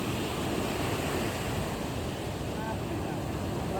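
Ocean waves wash onto a beach in a continuous, even roar of surf with no voices.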